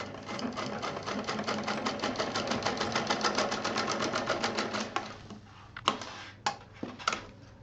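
A sewing machine stitches two lengths of piping onto a stylish pouch in a close, fast, even rhythm for about five seconds, then slows into a few separate single stitches and clicks.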